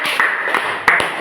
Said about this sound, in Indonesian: tepuk tangan untuk Al-Malik